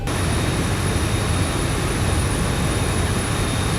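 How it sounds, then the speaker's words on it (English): Both jet engines of a Boeing 737-8HX idle in X-Plane 11 flight simulation, a loud, steady, constant roar with a high whine, no talk. "both engines are started"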